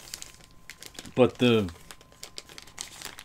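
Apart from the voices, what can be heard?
opening crinkly plastic comic book packaging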